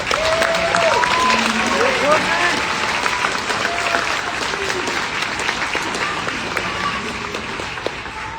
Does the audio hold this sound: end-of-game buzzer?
no